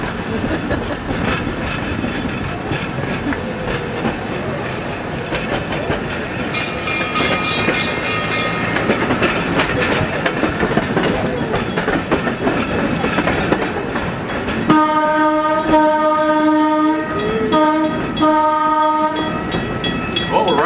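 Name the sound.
Rio Grande Southern Galloping Goose narrow gauge railcar running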